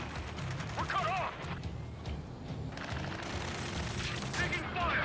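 Rapid gunfire and distant booms from an Ace Combat 7 combat mission, bursts of shots over a loud, busy battle bed, with voices calling out over radio chatter.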